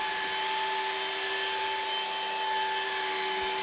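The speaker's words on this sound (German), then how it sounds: "das erste Polieren wird ein Rotationspolierer Shinex von Festool eingesetzt" A Festool Shinex rotary polisher works car paint to remove holograms, giving a steady continuous whine with a broad hissing buzz of the pad on the finish, loud and unbroken throughout, with no talking.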